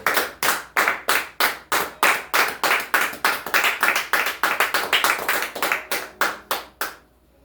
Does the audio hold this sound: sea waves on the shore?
no